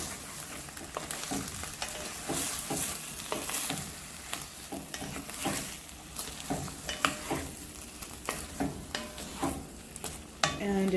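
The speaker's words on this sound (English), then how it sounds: "just go in and scrape the bottom." Spoon scraping the bottom of a pot while stirring chicken in a pot, with soft sizzling underneath and repeated close scrapes and clinks, alone without talk.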